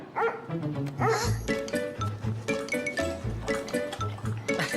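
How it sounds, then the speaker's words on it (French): A cartoon dog at a fire station barks in the Caillou animated series, a run of loud, bouncy woofs repeating in quick groups close to the listener, with no talking over them. "qu'est-ce qu'il fait ici, ce chien?"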